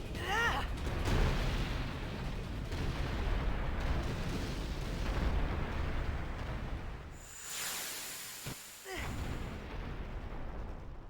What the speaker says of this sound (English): just casually running along what I think is an exploding building